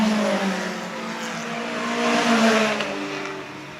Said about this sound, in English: we're halfway through this Group 5 race for over 2-liter cars